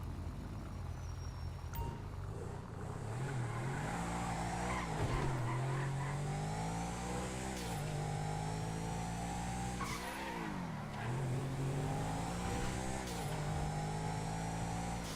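Adder supercar driven in GTA Online, its engine revving up and down through gear changes with tire squeals, a continuous close engine drone with no talking.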